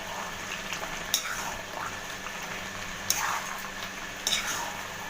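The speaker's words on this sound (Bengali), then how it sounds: "শুটকি মাছটা মিশিয়ে দিলাম এর মধ্যে।" Dried fish being stirred into a simmering potato curry in a pot gives a steady bubbling sizzle, with a few sharp clinks of the spoon against the pot.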